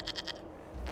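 A goat in the video game Dragon Age Inquisition gives a short, quivering bleat, a quick wavering burst of three pulses, moderately close and alone.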